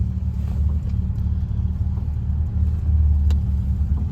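1956 Jaguar Mark VII M saloon driving along, a steady low engine drone and road rumble heard from inside the cabin, swelling slightly near the end with a faint click.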